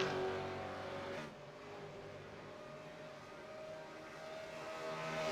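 A V8 race car from the Supercheap Auto East Coast V8 series drives down Conrod Straight at Bathurst, its engine a faint, distant, sustained drone that drops slightly after the first second and then swells again near the end.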